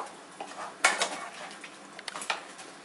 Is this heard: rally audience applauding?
no